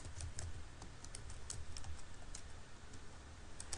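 Steady, close keyboard typing as a question is entered on a computer, quick clustered keystrokes running continuously throughout with no voices.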